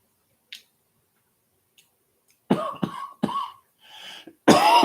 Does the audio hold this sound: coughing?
yes